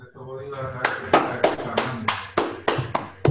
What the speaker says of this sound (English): Let's give a clap yeah, to everyone.